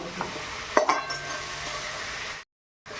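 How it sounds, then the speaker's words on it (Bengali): Spice paste frying in oil for a potato curry, with a constant close sizzle and a couple of clinks and scrapes from stirring early on, then a brief cut to silence near the end. "মশলাটা কষানো হয়ে গেছে মশলা থেকে তেল ছেড়ে দিয়েছে"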